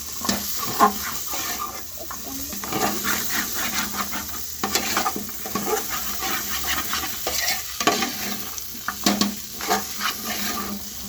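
Chicken pieces for a chicken stew frying in a pan, stirred and scraped repeatedly, a steady close sizzle broken by irregular spatula scrapes and clatters, with no talking.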